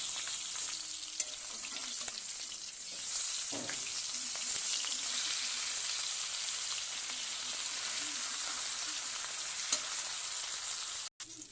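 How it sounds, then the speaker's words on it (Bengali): Fish fries in hot oil in a wok, giving a steady close hiss and sizzle with occasional light pops and a few scraping stirs, heard on its own. "মাছটা একটি ভাজা হয়ে গেছে এবার এটাকে নিচে দেবো"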